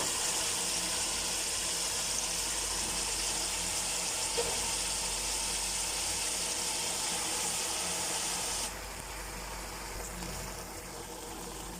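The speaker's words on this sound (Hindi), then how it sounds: "तो अब हम इसके अंदर जो है वो पालक ऐड करते हैं जी।" Potatoes frying in masala with spinach added, a steady loud hiss and sizzle that drops in intensity partway through, with faint stirring clinks beneath.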